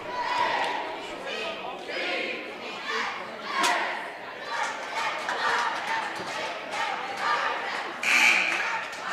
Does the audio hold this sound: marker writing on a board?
no